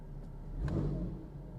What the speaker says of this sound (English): And if I rev it, and it'll come right back down.